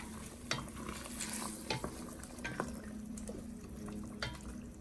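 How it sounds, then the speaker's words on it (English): Spicy ramen is stirred in broth with eggplant in a backyard pot, giving quiet, faint liquid swishes and light clinks spread in small bursts over a soft background hiss. "Add that to the broth. Now, give it a stir."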